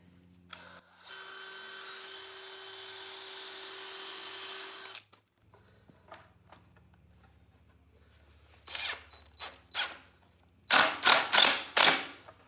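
A power drill drives 3-inch screws into a wooden farmhouse office desk: one long, steady whir, then quiet handling clicks, followed by several short, loud bursts of drilling close by.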